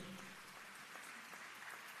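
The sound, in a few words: audience applause at a graduation ceremony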